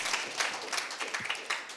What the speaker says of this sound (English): Give yourselves a round of applause if your hands aren't too sore.